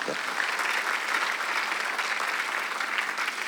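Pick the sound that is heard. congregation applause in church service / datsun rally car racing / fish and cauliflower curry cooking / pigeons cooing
congregation applause in church service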